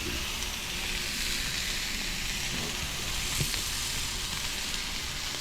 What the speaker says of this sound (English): Nice little sizzle going there.